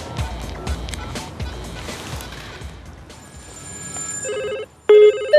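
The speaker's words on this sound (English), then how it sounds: "We've got a further 100 mobile phones ready to ring them." Mobile phones ring around an egg in a microwave, with tones and electronic ringtones building over rustling background noise and growing into loud overlapping rings near the end.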